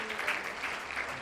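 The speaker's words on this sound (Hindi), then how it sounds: "तो जोरदार ताली रोहित के लिए" Applause from a small group at a photo quiz competition, sustained and fairly faint, then a sharp louder burst right at the end.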